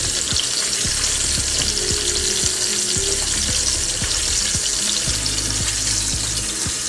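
Buttermilk chicken frying in a pan on turned-down heat, a loud constant sizzle with scattered knocks and scrapes as the pieces are flipped, no talking.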